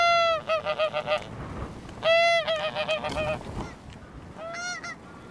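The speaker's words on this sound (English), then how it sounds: "geese flying in off the sea, which was interesting" Geese honk in repeated loud bursts of several calls each as they fly in off the sea during a rough-weather wildfowling outing, with wind noise and no speech.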